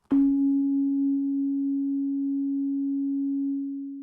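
Steady Omnisphere 2 synth tone, a pure sine-like note held alone with a sharp attack, sustaining at a reduced level for about four seconds before fading slightly at the end.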